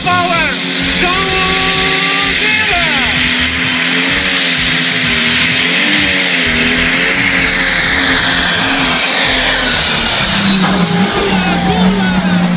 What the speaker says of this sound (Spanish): The turbo engaged, the boost, the power, John